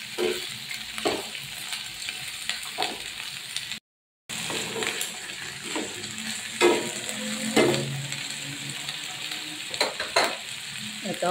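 Vegetables, eggplant among them, frying in a pan for ginisang ampalaya, a steady close sizzle with occasional stirring scrapes and light clinks, broken by a brief gap of silence.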